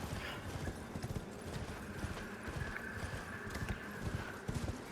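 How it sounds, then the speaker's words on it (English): A horse gallops in the Elden Ring video game, its quick hoofbeats drumming in a steady, even rhythm with no speech over it. "from here, you want to jump on your horse and follow me."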